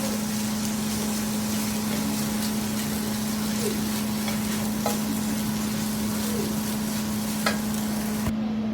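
Vegetable fried rice with egg and dark soy being stirred in a pan, a constant sizzle with intermittent scraping clicks of a utensil over a steady low hum.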